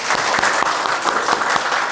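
A church congregation at a Sunday service claps together in a dense, even burst of applause, close and steady throughout.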